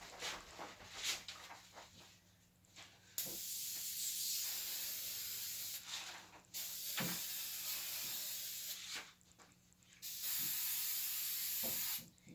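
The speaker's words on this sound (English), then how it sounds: "I'm going to spray it with an adhesive" Bursts of aerosol adhesive spray hiss from a can, three long sprays with short pauses between them, close and steady, no talking.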